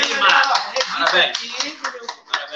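Audience clapping at a 2022 arts award ceremony held in a library, scattered claps running steadily through the clip beneath a person speaking.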